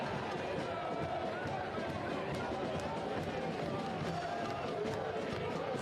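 A soccer stadium crowd at a USL Cup match between the New York Cosmos and Portland Hearts of Pine, a dense, steady roar of cheering and chatter filling the background at an even level throughout.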